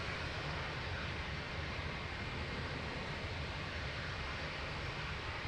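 A Lufthansa Airbus A321 in retro livery at Lisbon Airport gives a steady, fairly faint jet engine roar, a broad continuous wash of noise with no voices.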